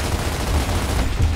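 Dense, continuous automatic gunfire from Gears of War, rapid shots fired at walls, loud and close with heavy low-end booms throughout, no talking.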